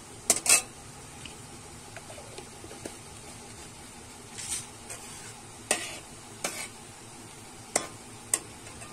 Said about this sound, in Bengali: ফোড়নটা আমি একটু ভাজা ভাজা করে নেব।